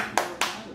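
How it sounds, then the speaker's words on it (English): Two sharp, close hand claps a quarter second apart, keeping time in a Let's Go Mets chant. "Now you gotta clap."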